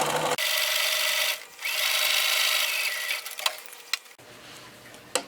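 A sewing machine runs a steady stitch to close the edge of a small doll quilt, its close mechanical whir holding for several seconds, dipping briefly and ending in a few light clicks.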